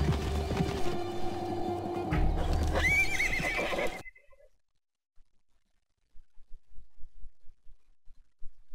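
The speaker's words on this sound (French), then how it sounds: "le cheval se cabre parce qu'il est très content" A horse rears and neighs in a horse-riding video game, a bright whinny over game music and hoofbeats, then the sound cuts out, leaving a quiet stretch and faint soft thumps.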